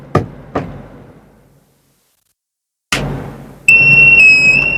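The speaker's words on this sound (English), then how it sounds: "Now the beeping sign is coming out again." A Spider Sensor electrical leakage alarm gives a loud, steady high-pitched electronic beep that starts abruptly and holds near the end, preceded by a few sharp knocks and clicks from handling the device.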